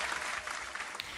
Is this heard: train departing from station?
no